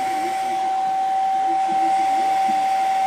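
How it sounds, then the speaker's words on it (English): A hair dryer blows steadily on a low setting with a constant whine and airy rush, continuous and close throughout. "I'm going to take hair dryer on low"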